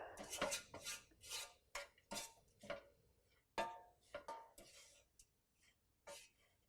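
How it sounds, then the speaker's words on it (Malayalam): Spinach and grated coconut stir-fry (cheera thoran) being stirred and tossed in a pan, giving a string of close, irregular metallic scrapes and clinks of a spoon against cookware, with no talking. "ഒന്നുകൂടി നന്നായിട്ടിത് മിക്സ് ചെയ്ത് കൊടുക്കുക."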